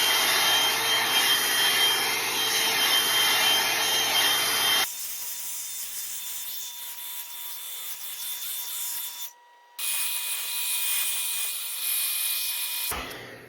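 A hair dryer blows on hair styled with a round brush, a loud steady whoosh that drops to a softer airflow partway through, cuts out briefly, then returns before stopping.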